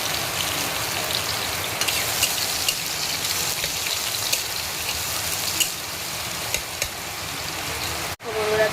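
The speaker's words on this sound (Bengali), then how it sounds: "কিন্তু আজকে আবার বৃষ্টি চলে এসেছে।" Steady rainfall hisses loudly and evenly, with a few soft knocks and a brief drop near the end before the downpour resumes.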